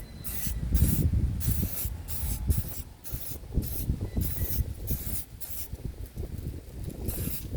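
Spray can laying primer onto Kilmat sound deadening on an 88-98 GMC/Chevy C/K 1500 truck, a run of close, loud hissing bursts in an uneven rhythm with short gaps between them.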